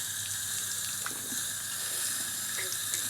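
Water pours steadily from a tap onto a dry coco coir brick, a constant close splashing hiss with small bubbling and trickling accents and no speech.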